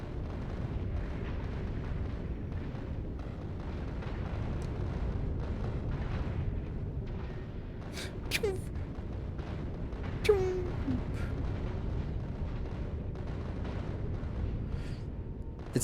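Turrets firing in Factorio: Space Age, a steady dense rumble of rapid shots and booms running throughout, with a few sharper pops and zaps standing out on top of the continuous barrage.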